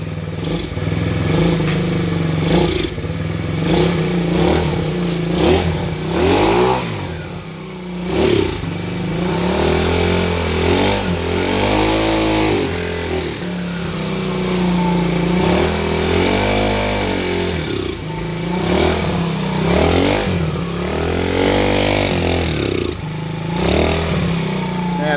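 A carbureted scooter engine that has not run for a while sputters and revs unevenly, rising and falling through repeated throttle blips, loud and close, with a person talking over it.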